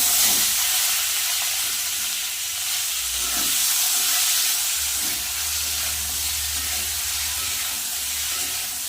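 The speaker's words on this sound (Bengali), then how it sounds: "একটু লাল লাল করে ভেজে নেব" Continuous hissing sizzle of potato and pointed gourd frying in oil, steady and close, with faint low clatter underneath and no speech.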